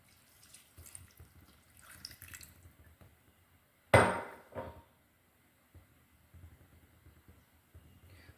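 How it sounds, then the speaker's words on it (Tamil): A short splash of water poured into a pan, a brief burst with a quick trailing pour, surrounded by quiet kitchen sounds. "கொஞ்சம் தண்ணி ஊற்றிக்கலாம்"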